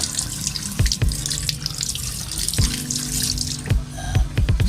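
Tap water runs steadily into a sink as a ballpen is warmed under it, a continuous hiss broken by several sharp knocks and clunks of the pen and hands against the basin.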